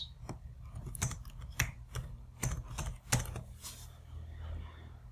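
Computer keyboard keys are tapped in scattered bursts of distinct clicks, close and fairly loud, over a low background hum as axis labels are typed into graphing software.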